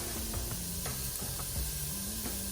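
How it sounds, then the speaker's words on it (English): Onions and celery sauté in an Instant Pot, a soft steady sizzle and occasional stirring scrapes under a low background of music. "Just gonna let that saute."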